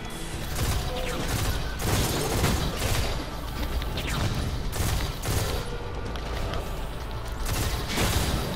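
Loud, continuous gunfire and explosions from the video game Destiny 2 form a rapid, overlapping barrage of bursts and booms throughout.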